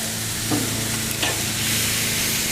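Flat-back chicken on a BBQ grill gives off a loud, continuous sizzling hiss, close up, with a couple of faint clicks and no talking.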